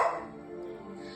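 A single short dog bark or yip sounds near the start, then fades into a faint, tonal whimpering hum. The whole burst is brief, and nobody speaks.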